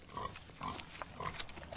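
A sow chomping away at her food, with rhythmic munching and snuffling bursts about every half second, close and fairly quiet, with no talking.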